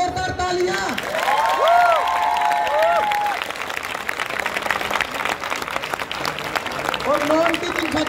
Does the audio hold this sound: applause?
yes